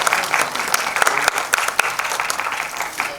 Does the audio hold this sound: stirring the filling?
no